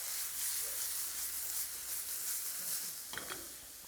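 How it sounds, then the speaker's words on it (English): Vegetables browning in a pan on lowered heat while cooking shakshouka, a soft, even sizzle with a brief scrape or clatter near the end, fairly quiet and without speech. "I'm going to lower the heat just a little bit because I see that my vegetables are starting to brown"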